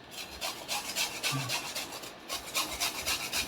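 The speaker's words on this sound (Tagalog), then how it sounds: "Nilinisan na rin natin at saka kuskusin natin." A peeled sweet potato is grated by hand for suman, giving a steady, close rasping scrape in quick repeated strokes with brief pauses, and no voices.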